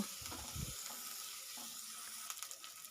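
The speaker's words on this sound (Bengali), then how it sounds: "দিয়ে পেঁয়াজ আর রসুন বাটাটা আমি ব্রাউন করে ভেজে নেব।" Onion and garlic paste fries in a pan with a steady, faint sizzling hiss, broken by a few soft knocks early on and light clatter toward the end.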